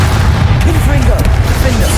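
A fiery Confringo blast spell goes off in the video game Hogwarts Legacy, a short, dense burst of booming noise with a voice partly heard over it.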